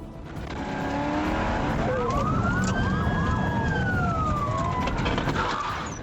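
Several police car sirens wail and sweep up and down during a vehicle chase, loud and continuous over engine and road noise, with tires squealing.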